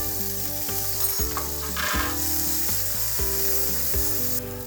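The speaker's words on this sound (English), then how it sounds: "Add 1 tablespoon of olive oil, then add 1 small diced onion and cook for 2 to 3 minutes or until translucent." Diced onion fries steadily in olive oil in a pan, a continuous close sizzle running throughout with music playing underneath.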